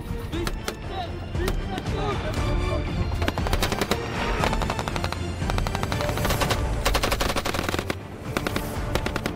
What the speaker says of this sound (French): Le but de cette séance, c'est de les familiariser avec le tir à partir de véhicules.